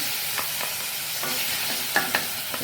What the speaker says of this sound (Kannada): ಇದು ಸ್ವಲ್ಪ ಬಾಡಲಿ, ಅಷ್ಟರವರೆಗೆ ಇದನ್ನು ಫ್ರೈ ಮಾಡ್ಕೊಳ್ಳೋಣ